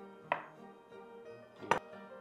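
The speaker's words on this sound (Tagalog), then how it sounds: "I'm just mincing my onions" A knife mincing onions on a chopping board gives two sharp, separate strikes about a second and a half apart, close and fairly quiet, over a soft steady background hum.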